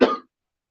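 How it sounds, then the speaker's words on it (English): A single short, sharp cough from a man close to the microphone, bursting out abruptly and cutting off into silence. "I'm out here coughing on the air."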